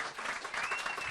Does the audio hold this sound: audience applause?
yes